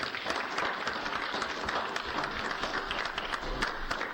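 Audience applause at a city council meeting in Blackwell, Oklahoma, a dense wash of clapping that holds steady from start to finish with no pauses, fairly close and moderately loud.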